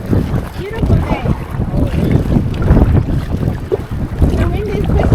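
Wind blowing across a lake in Algonquin during a canoe trip buffets the microphone in a constant gusty rumble, with faint voices in the background.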